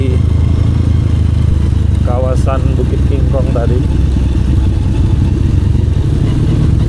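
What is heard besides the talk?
motorcycle riding downhill from Bukit Kingkong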